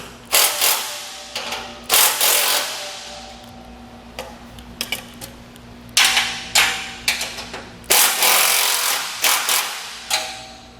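A 14 millimetre wrench ratchets and clanks while removing the top bolts from the center channels of a Malone MegaSport trailer, sharp close metallic clicks and knocks coming in irregular bursts.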